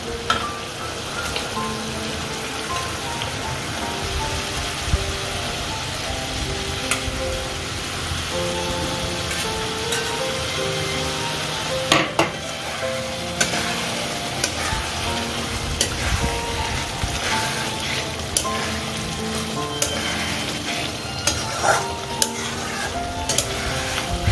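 Potatoes go into a frying spice masala for a chicken whole-lentil dal and are stirred. A loud, continuous sizzle like heavy rain runs throughout, with scattered clinks and scrapes of the spoon against the pan.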